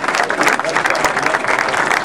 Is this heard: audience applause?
yes